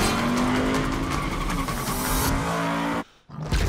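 A car in Saints Row (2022 reboot) roars along with a steady engine drone and screeching tires, loud and close, cutting out briefly near the end before the engine returns.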